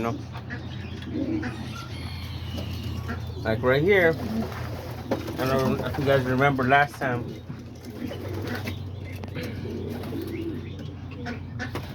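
Soft, low cooing of homing pigeons repeats a few times beneath someone talking, with a steady background hum throughout.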